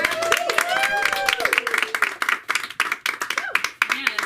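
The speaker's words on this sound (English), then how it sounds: "Can I have everyone give one last round of applause for her?" An online event audience claps for a speaker in a round of applause, a dense, steady patter of hands heard under a voice that keeps talking throughout.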